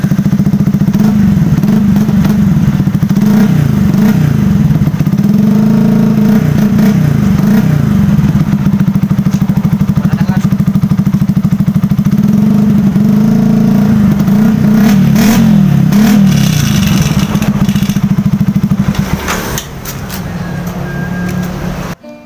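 Motorcycle exhaust fitted with a universal dB killer silencer, SC Project and Akrapovic style, revving loudly and close with a rumbling idle and repeated throttle blips, then dropping quieter near the end.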